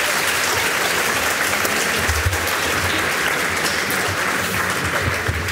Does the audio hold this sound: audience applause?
yes